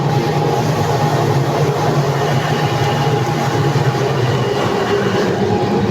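A seed drying machine drying pumpkin seeds runs with a steady, loud drone and a faint high whine, unchanging throughout.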